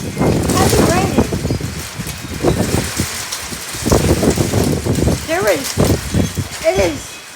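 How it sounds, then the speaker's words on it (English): Heavy rain pours during a Phoenix, Arizona dust storm, a constant hiss of falling water beneath a person speaking excitedly for most of the clip. "It is pouring right now."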